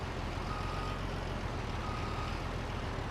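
Reversing beeps from a truck backing up toward a dump truck in Farming Simulator, a steady tone under a continuous engine drone, with no talking.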